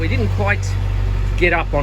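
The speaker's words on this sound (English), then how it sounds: "Sorry about the audio quality with the engine running" A yacht's engine runs with a steady low idling drone throughout, while someone talks over it close by.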